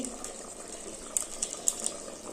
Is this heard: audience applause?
no